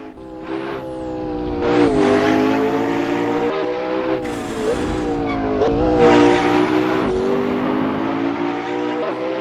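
McLaren P1 hypercar racing in Assetto Corsa: a loud, sustained engine howl climbing and dropping through gear changes, with revving surges and tire noise throughout, close and continuous with no talking.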